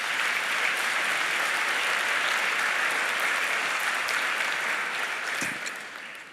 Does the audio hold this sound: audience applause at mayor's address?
yes